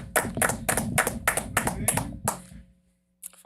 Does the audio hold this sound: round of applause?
yes